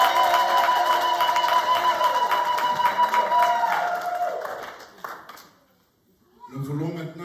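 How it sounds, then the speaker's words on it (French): A wedding congregation breaks into loud, sustained applause with cheering and shouts under a steady tonal background. The clapping tapers off toward the end, and a voice then begins speaking. "Acclamez très fort pour la parole de Dieu"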